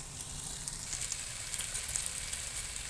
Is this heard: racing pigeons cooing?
no